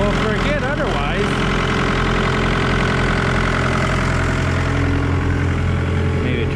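A Ford 6-liter engine idles loudly and close by, a constant low rumble with a steady mechanical chatter and no change in pace, while a voice is briefly heard near the start.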